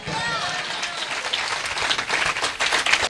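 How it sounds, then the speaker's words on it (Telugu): A congregation at a Telugu Christian church service claps together in a dense, continuous round, with crowd voices mixed in throughout. "మీరు మాత్రం శబ్దం చేసి చప్పట్లు కొట్టి ప్రభునామమున మహిమపరచండి"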